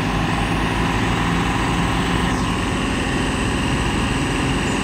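Heavy truck engine labouring while towing, a loud, close, rumbling drone that stays constant for about five seconds with no talking.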